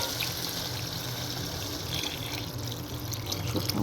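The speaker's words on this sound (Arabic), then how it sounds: "عندي هنا المي مالت اللحم راح اخليه فوقه" Meat broth is poured steadily from a vessel over cooked green beans, making a continuous splashing, trickling gush with small bubbly spatters throughout.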